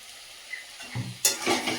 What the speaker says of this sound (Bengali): চিকেনটা কিছুক্ষণ কষিয়ে নিলাম